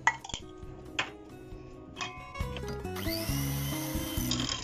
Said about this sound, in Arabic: نخلط شويه